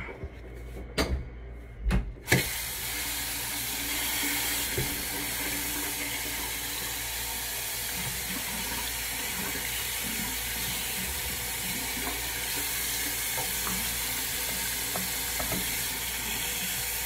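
Tap water runs into a kitchen sink in a steady, hissing stream. It follows a few sharp knocks at the start and continues for a long stretch with no voices.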